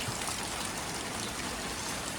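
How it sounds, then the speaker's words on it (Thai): Steady rain pours down over a fighting-cock farm, an unbroken hiss of drops and trickling water, close and even throughout with no voices. "ฝนตกนะครับวันนี้ตกทั้งวันเลยนะครับ"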